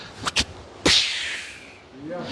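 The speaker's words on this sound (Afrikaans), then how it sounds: "sy klap 'n sweep" Whip cracks ring out sharply: two quick snaps close together, then a louder crack that trails off in a swishing decay, followed by a person talking in the background.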